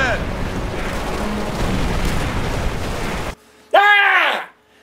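Heavy, rumbling artillery fire in the World War II shooter Call of Duty 3 rolls on for several seconds before cutting off, followed by a brief shouted voice.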